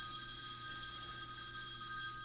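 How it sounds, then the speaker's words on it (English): A telephone rings continuously with a steady, sustained electronic bell tone, fairly loud and unbroken, with no talk over it. "There goes the phone again."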